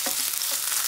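Curry leaves crackle and sizzle in hot oil in a pan, a dense, steady frying hiss with a few small pops, close and alone.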